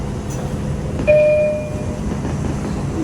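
A rumbling New York City subway R142 train interior on a Pelham Line 4 train, with a steady rolling noise, and a brief two-tone chime rings out partway through before fading.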